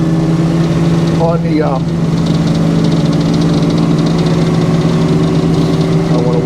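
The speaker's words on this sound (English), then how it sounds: "if you hear some more background noise, our little sawdust blower" Steady mechanical drone of a small sawdust blower running at a sawmill where poplar logs are sawn, a constant hum throughout with a brief voice speaking over it.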